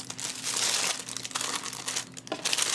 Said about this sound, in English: Sorry if that's crinkling.